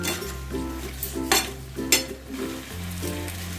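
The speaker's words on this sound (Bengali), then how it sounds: "গ্যাসের আঁচটাকে বাড়িয়ে দিয়ে আর ঢাকা দেব না এভাবে একটু ভালো করে নেড়ে চেড়ে নেব" Muri ghonto, a puffed-rice dish, stirred in a pan over high heat: clinks and scrapes of a spatula against metal over a steady tonal hum and low sizzle, close and without speech.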